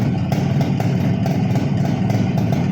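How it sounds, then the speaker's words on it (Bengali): A car engine in fresh condition idles close by with a steady low rumble and a faint rhythmic ticking clatter, no voices over it. "যেমন এর ইঞ্জিনটার সাউন্ড"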